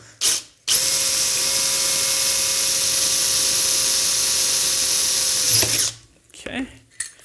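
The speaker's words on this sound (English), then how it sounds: "I'm only drilling through one wall here" A power drill whines loudly at high pitch for about five seconds, drilling through a metal wall of a launcher rail, starting and stopping abruptly, with brief clatter before and after.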